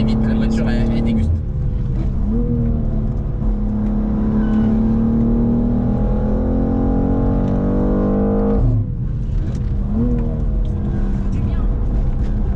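A BMW M2 is driven hard around the Nürburgring, its engine loud and close, climbing in pitch through long pulls, then dropping and picking up again after a gear change or lift, while people talk over it.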